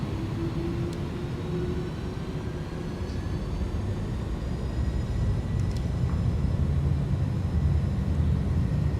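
Airbus A310 jet engines in Microsoft Flight Simulator spooling up to takeoff thrust, a dense continuous roar that grows gradually louder, with faint thin tones drifting upward above it.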